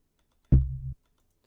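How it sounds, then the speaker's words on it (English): A higher layer of an 808 bass in a squash-beat production, heard alone as a single short tone: a sharp attack followed by a steady buzzing sustain that stops abruptly after about half a second. "And the higher bit sounds like this."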